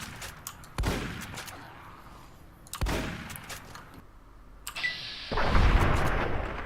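Gunfire from an enemy in Fallout New Vegas hits in sharp, loud bursts, with three separate volleys spaced a second or two apart and a longer rattling blast at the end.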